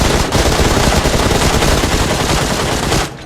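Sustained rapid automatic gunfire from a video game firefight rattles loudly and continuously for about three seconds, with no talk over it, then cuts off abruptly.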